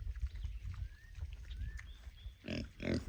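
A pet pig about three months old grunts and snorts on a pig farm, in low, repeated rumbling bursts close by, with a few brief higher squeals and a louder cluster of grunts near the end.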